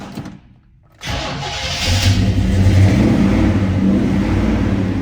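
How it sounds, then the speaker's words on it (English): A 1970 Chevrolet Chevelle SS engine cranks and fires after a brief near silence, then settles into a loud, rumbling, rising idle close by. "where I get to start this car up"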